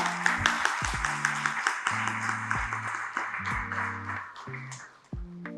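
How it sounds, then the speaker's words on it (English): An audience at a financial leadership conference in India claps steadily for several seconds. Low tones play beneath the applause before it thins out near the end. "May I have a round of applause?"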